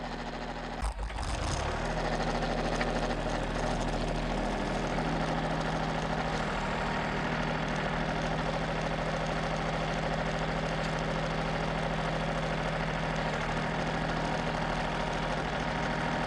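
A tractor engine idles steadily and close, a constant low rumbling drone with a slight rattle, after a brief knock near the start.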